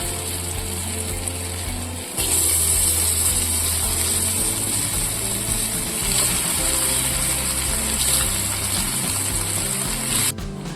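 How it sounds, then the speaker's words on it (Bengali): Boiled taro (mukhi kochu) pieces drop into hot oil seasoned with bay leaf, cinnamon, dried red chilli and turmeric, setting off a loud, steady frying hiss after about two seconds that continues unbroken over a low background hum. "সেদ্ধ কচুগুলো তেলে ছেড়ে দিচ্ছি।"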